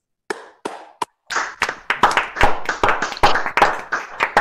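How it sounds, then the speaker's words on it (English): A few scattered claps at first, then a small audience breaks into steady, fairly close applause that keeps going. "Please show your appreciation to all the performers and engineers with one more round of applause."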